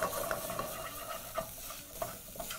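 Browning beef for biryani is stirred in oil in a pot on low heat, giving a steady close sizzle broken by repeated soft scraping stir strokes.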